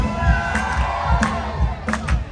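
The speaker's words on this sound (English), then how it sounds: "give me a cheer if you've been on Ventura before" Crowd of passengers aboard the P&O Ventura cruise ship cheering and whooping in a large room, loud and continuous with shouts and claps rising through it.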